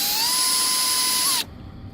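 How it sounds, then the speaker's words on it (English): A high-pitched whine of a small drill bit drilling out a hole in a bolt action pen runs steadily for about a second and a half, then cuts off abruptly. "I'm going to take a slightly larger drill bit and drill out this last hole here"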